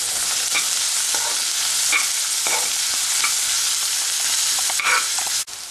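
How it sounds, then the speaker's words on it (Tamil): Ginger garlic paste sautéing for a mutton curry, a steady broad sizzle with repeated scraping stirs of a spatula in the pan, close and loud, no voices. "நல்லா வதக்குங்க. அந்த இஞ்சி பூண்டோடைய ரா ஸ்மெல் போகிற வரைக்கும்."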